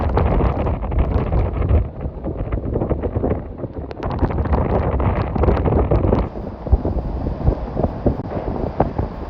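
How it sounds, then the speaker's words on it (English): Strong hurricane Beryl wind gusts buffet a microphone on the Texas Gulf Coast, a loud continuous roar with rumbling surges and no speech. "Occasionally we get some big gusts of wind"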